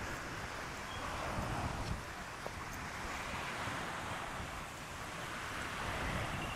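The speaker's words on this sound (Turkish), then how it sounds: "burası bize, karavanımıza en yakın olan beach" Waves wash ashore on a beach near Ormos Panagias in Halkidiki, a continuous soft surf roar mixed with gusty wind buffeting the microphone, with no voices.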